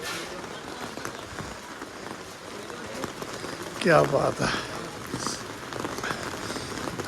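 Rain falling outdoors on a path to a cave shrine, a steady soft patter under the scene while someone talks briefly and there are other voices and movement nearby.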